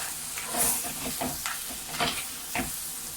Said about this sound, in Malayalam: ഞണ്ടുകുട്ടന്മാരൊക്കെ ഇതിന് നമുക്ക് നല്ലോണം ഒന്ന് ഇളക്കിയെടുക്കാം